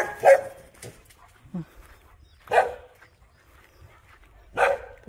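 Dogs roaming a residential estate in Spanish Town, St Catherine, bark in three sharp, loud bursts spaced a couple of seconds apart, with quieter yips and faint background noise between them.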